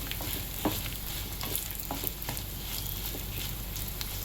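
Dried red chillies frying in a pan, a soft, steady crackling sizzle with light scraping taps from stirring, fairly quiet and close, no voices.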